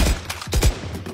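Rapid bursts of video game gunfire crack in a tight volley, several shots close together then trailing off into a few scattered pops, loud and near.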